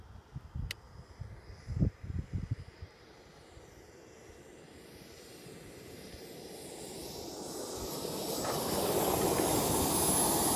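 A Jetcat P70 model jet turbine spools down, starting with a few loud bursts, then a thin whine over a broad hiss that slowly swells louder toward the end.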